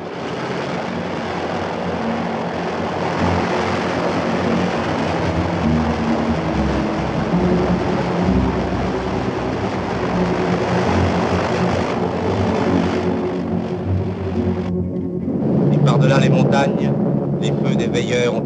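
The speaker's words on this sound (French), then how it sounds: "encore une fois le chant des moteurs. Il grandit, s'éloigne, se rapproche un peu, disparaît, revient encore" Propeller aircraft engines drone steadily, swelling and fading as if passing and circling overhead, loud and continuous before a brief lull and a renewed burst near the end; music may run underneath.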